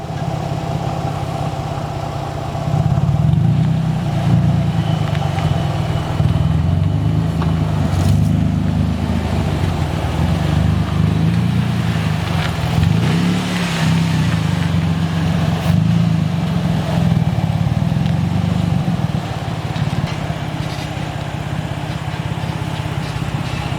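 Nissan 350Z engine running on a first drive, a steady close engine drone that rises and varies in pitch as the car gets underway, then eases back near the end.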